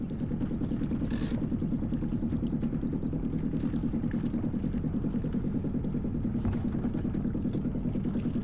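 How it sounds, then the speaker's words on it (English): A sailboat's diesel engine runs steadily in reverse while leaving a dock, a low, constant rumble with an even mechanical chug, fairly quiet and without talk. "Now put the engine to reverse, remove the line from the winch, and leave the dock."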